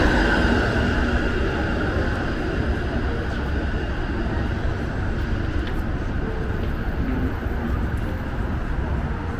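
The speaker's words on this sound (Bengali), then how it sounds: "এটা একটা ট্রাম আমরা এখানে এগুলোকে স্ট্রিট" A Toronto streetcar tram rolling along a city street, a steady loud rumble with rail hiss and faint squeals, continuous for the whole stretch amid traffic and street ambience.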